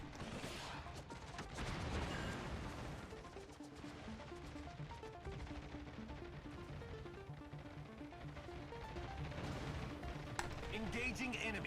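Rapid naval gunfire and blasts in World of Warships, played with a Tier VIII premium American aircraft carrier, form a dense, continuous barrage with layered explosions and game voice lines.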